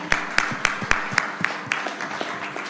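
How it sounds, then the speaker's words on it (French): A few hands clap in an even, quick rhythm at a French-language conference on ecological transition and urban governance, the claps sharp and close at first, then thinning and fading out. "je pense que les applaudissements ont été de votre côté"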